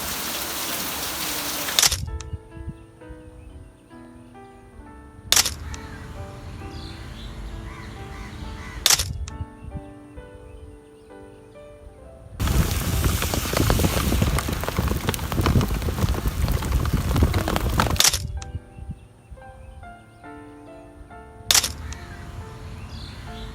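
Rain falls in Bangladesh in loud, hissing downpours that come and go, with quieter stretches between them where soft tonal music and occasional crow caws come through.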